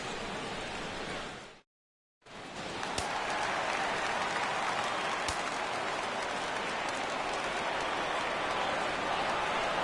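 A home crowd roars in a baseball video game after a triple, a dense wash of cheering that cuts out briefly near the start, then returns louder and sustained.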